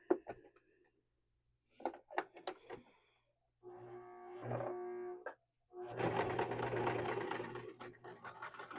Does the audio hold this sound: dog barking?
no